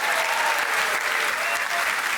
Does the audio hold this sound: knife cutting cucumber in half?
no